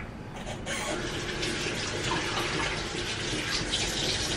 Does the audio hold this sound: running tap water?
yes